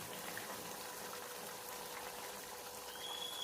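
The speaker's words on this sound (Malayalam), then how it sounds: "നന്നായിട്ട് തിളച്ചിട്ടുണ്ട്." Pork curry bubbles steadily in a pot on the stove, a soft, continuous hiss and burble with no break.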